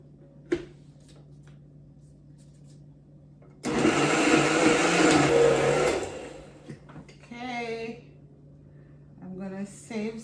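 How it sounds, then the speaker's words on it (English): An electric blender roars loudly for about three seconds as it purées Jamaican-style jerk sauce for jerk fish, then cuts off. A voice talks briefly before and after the burst. "we're gonna blend"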